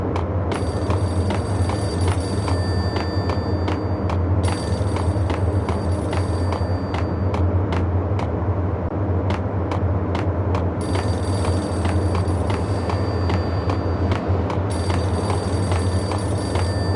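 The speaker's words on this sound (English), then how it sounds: "The payphone started to ring." In the Max Payne video game, a payphone rings insistently with repeated electronic bell bursts over a low engine-like drone and the game's ambient hum, loud and near, with no speech.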